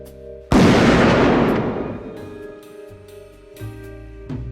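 A single loud gunshot-like boom at the close of a 1970s film, the French Connection sequel, bursts in sharply and decays over about two seconds, followed by faint tonal music and low rumbles.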